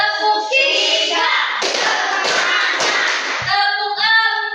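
Children clap their hands during a classroom ice-breaking game: a burst of quick, loud, rhythmic claps sits between stretches of voices chanting before and after.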